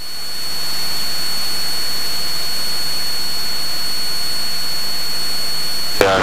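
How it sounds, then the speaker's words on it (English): A jet airliner takes off from a Class C airport runway and is heard from a waiting Cessna 172. The engine roar is steady and broadband with a thin whine, ending in a brief clatter. "they just wanted to let that jet go before us"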